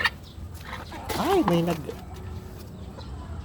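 A bantam chicken gives a short rising-and-falling cluck close by, while a person speaks briefly over quiet outdoor background noise.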